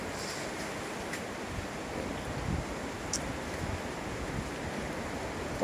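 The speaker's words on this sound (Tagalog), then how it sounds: "Nakita niyo yung alon, high tide yan." Ocean waves at high tide wash onto the shore at a coastal reef resort before dawn, a continuous broad roar with strong wind buffeting the microphone.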